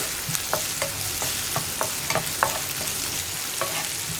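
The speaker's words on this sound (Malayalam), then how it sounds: "സവോള ഒന്ന് ട്രാൻസ്പെറൻ്റ് ആയി വരുന്നത് വരെ നമ്മളൊന്ന് ഇളക്കി കൊടുക്കുക" Onions frying in a pan for potato masala, stirred with repeated quick scrapes over a loud, steady sizzle, close up.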